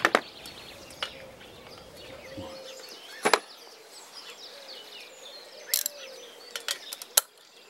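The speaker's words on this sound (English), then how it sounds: "I think I'm going to get a socket on there." A socket wrench ratchets in short, sharp clicking bursts with quiet pauses between, heard close by outdoors during orchard clearing work.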